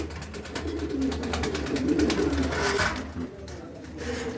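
A white male racing pigeon coos in a throaty, rolling purr close by, the low murmur repeating steadily over a few seconds with faint background noise.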